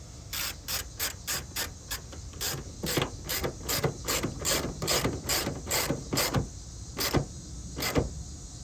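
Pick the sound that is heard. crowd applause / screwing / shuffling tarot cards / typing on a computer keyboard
screwing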